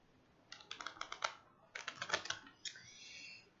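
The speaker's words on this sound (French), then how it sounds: "je commence à mélanger le jeu" An oracle card deck being shuffled nearby, with quick bursts of crisp riffling clicks in two runs and a short final slide of cards, quiet and free of talk.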